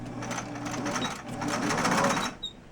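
A domestic sewing machine runs a continuous stitching stretch, a close, steady whirring hum with rapid needle clatter, then stops abruptly, while a voice is faintly heard.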